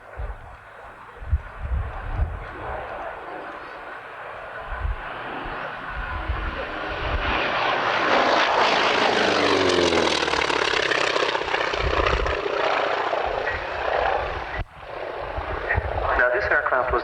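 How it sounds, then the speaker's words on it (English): A T-28 Trojan's radial engine drones steadily at an air display, swelling into a loud, broad roar as the aircraft passes close overhead, then easing slightly before a brief dip and return. "Radial engine as John Romain commences his display in the T-28 Trojan"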